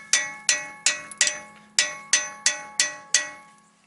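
Hammer strikes on a chisel spreading the spindle clamp of a VW MK4 during an air suspension install, ten sharp metallic clanks in a steady uneven rhythm, loud and close with ringing decay.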